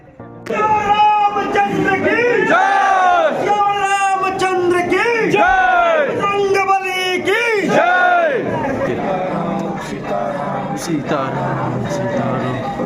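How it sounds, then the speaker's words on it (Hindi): A crowd of devotees at Hanumangarhi temple in Ayodhya makes loud, continuous chanting and calling, with voices rising and falling in repeated sung phrases over busy background babble. "यहाँ पर हर रोज श्रद्धालुओं की बहुत ही ज्यादा संख्या में भीड़ उमड़ी पड़ी रहती है।"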